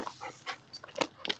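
A dog gives a few short, close yips and whimpery barks in quick succession, brief and moderately loud with small gaps between them.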